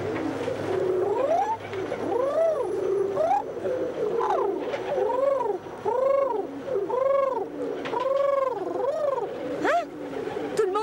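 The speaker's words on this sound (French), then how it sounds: "As-tu vu ça? Tous les pigeons roucoulent." Many pigeons cooing close together in a busy, continuous chorus of rising and falling coos, with bursts of overlapping calls throughout, as someone feeds them bread.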